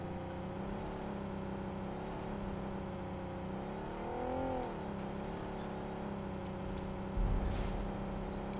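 A car engine in PUBG Mobile hums steadily while driving, with a rising and falling rev midway and a brief thump near the end, moderately loud and continuous.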